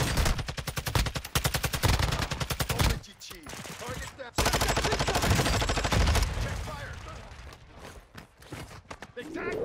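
Rapid automatic gunfire in the online shooter Call of Duty DMZ, dense bursts of close shots crackling in clusters with brief pauses, loud and sharp through most of the stretch, with a voice calling out over it.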